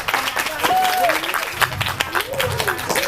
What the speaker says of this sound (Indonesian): Berikan tepuk tangan untuk kawan-kawan kita ya.